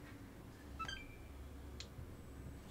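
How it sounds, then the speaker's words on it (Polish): An Xbox Series X console that is failing to start gives a faint, short electronic beep near the start, then a brief tone about a second later, in an otherwise quiet room. "Słychać, że jest pik."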